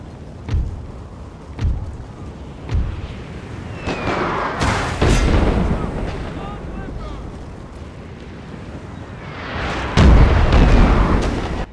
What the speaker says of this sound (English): So I just continue my bombardment of the exposed units of artillery.